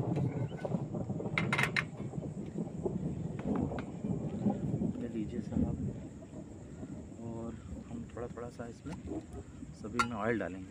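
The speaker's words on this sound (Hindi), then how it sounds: "बारिश हो रही इस तरफ, बादल गरज रहे हैं।" Low thunder rumbles on and off beneath steady outdoor noise at a campsite near a dam in rain, with a voice talking briefly near the end.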